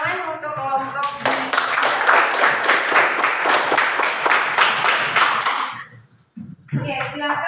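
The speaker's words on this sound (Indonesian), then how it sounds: "Boleh tepuk tangan untuk kelompok B" Classroom applause for a student group: a dense, steady burst of many hands clapping for about five seconds, then a short pause before voices resume.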